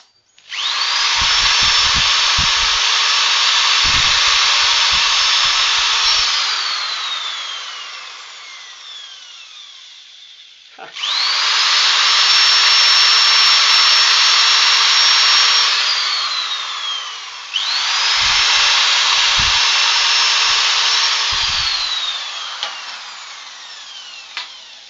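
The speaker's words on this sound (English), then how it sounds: "I have to resand a little bit here" Wood being resanded on a lathe during woodturning, a loud, close, steady whirring rasp that runs in three long passes of several seconds each, separated by brief pauses as the lathe slows and spins back up.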